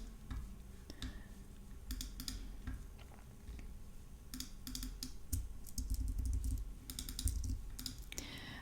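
Computer keyboard typing in quick, uneven bursts of key clicks, close and fairly quiet, with pauses between runs and a low background hum.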